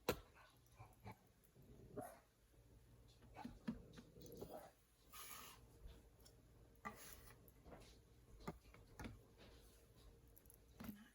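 A dog growls outside while pizza dough is being kneaded indoors: faint, distant, intermittent rumbling and barking under soft kitchen ticks and handling noises, with no talking.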